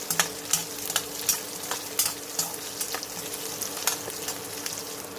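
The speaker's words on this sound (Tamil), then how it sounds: "இது நல்லா வதங்கி வரட்டும், பார்க்கலாம்." Drumstick masala gravy base sautés in a pan, a soft continuous sizzle broken by regular scraping stir strokes, close and without any talk.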